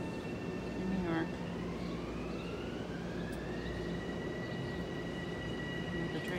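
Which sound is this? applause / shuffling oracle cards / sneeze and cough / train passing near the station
train passing near the station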